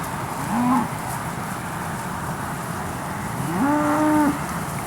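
Cattle at a livestock auction sale give two low, drawn-out moos, a short one early and a longer one near the end, fairly close over a steady noisy barn background with no talking.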